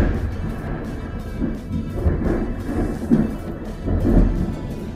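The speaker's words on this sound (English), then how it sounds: "you guys heard that boom of thunder?" Thunder rolls through a rainstorm, a loud, deep rumble with several swelling booms over steady rain, close by and with no talking.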